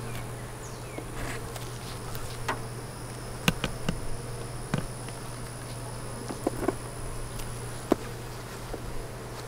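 Honey bees buzz around an opened hive while frames are lifted out during a varroa mite treatment, a soft continuous drone with occasional light taps and knocks, fairly quiet and with no talking.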